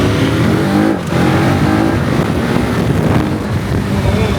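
A KTM 1390 Super Adventure S Evo motorcycle accelerating hard, its engine a loud, close, rising roar heavily mixed with buffeting wind noise, with no talk over it.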